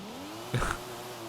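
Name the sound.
900 hp Toyota Supra drifting in video game Forza Horizon 5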